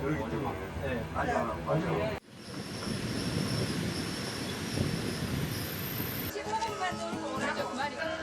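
Steady rumble and rattle of a trans-continental train rolling along, heard from inside the carriage, loud and continuous after a voice at the start and under talk near the end.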